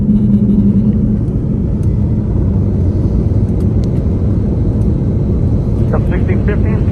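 Delta Airbus A330-200 jet on the runway at Atlanta during takeoff, a continuous loud low engine rumble and roar throughout, with air traffic control radio talk over it.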